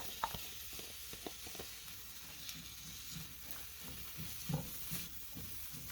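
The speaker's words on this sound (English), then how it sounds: "We'll go ahead and add our apples at this point." Apples tipped into a pan of frying onions, with a steady soft sizzle and light stirring patter throughout, a few brief clatters near the start and around the middle.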